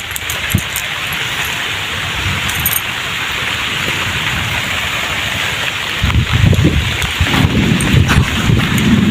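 Rain falls in a steady rush while low rumbles of thunder roll underneath, growing heavier toward the end, with buffeting wind on the microphone.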